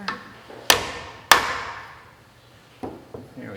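Two sharp, close taps from a small copper hammer strike a Ford Model T magneto part in quick succession, each ringing briefly, followed by a couple of softer knocks.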